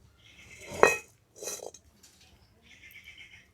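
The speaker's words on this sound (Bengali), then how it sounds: "কড়াটা বসিয়ে দিচ্ছি।" A metal kadai is set down on a stove, giving a sharp clanking ring followed by a couple of softer metallic knocks and scrapes, close and fairly quiet.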